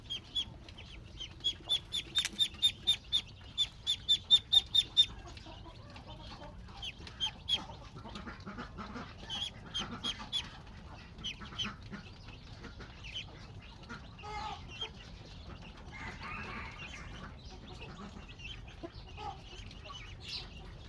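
A small flock of five or six domestic Lao ducks is being fed outdoors, with a quick run of loud, rhythmic quacks up front, then scattered, softer calls and rustling as they eat.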